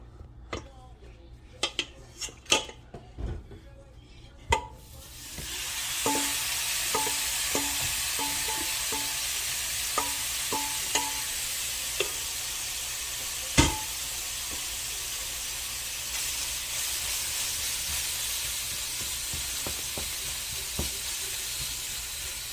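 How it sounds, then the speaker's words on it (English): Ground meat hits a hot skillet after a few clinks of utensils, starting a loud, broad sizzle that holds steady, with occasional scrapes and taps of stirring. "Okay, I'm gonna put the meat in the skillet."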